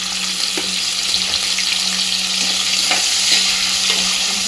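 Steady, continuous sizzling of onions and curry leaves frying in hot oil, with a few faint stirring clinks; no voices.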